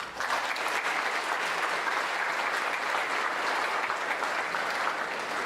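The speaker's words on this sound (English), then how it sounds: "I believe that deserves a round of applause." Audience applause fills a university convocation hall, a steady, dense clapping that holds at full strength for the whole stretch with no voices over it.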